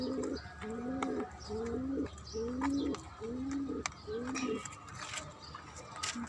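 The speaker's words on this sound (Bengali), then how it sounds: "এদিকে কবুতর খাচ্ছে" Pigeons cooing in a steady repeated rhythm while eating, close by on a rooftop garden, with faint pecking and scattered chirps in the background.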